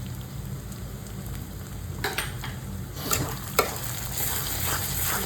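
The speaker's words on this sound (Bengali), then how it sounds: "দিয়ে ভালো করে মশলাটাকে আমি কষাবো।" Spice paste with ginger and salt sautéing in a pan for Bengali mutton kosha, a steady soft sizzle with a few sharper stirring scrapes and clinks near the middle, close and moderately quiet.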